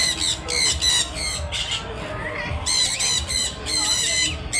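Birds in an aviary, a macaw among them, give repeated loud harsh squawks in bursts, with talk underneath.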